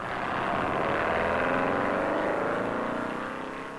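A 1957 race car tears through the north turn of the Daytona Beach course, its engine a loud, steady roar that holds close for a few seconds before easing slightly as it passes.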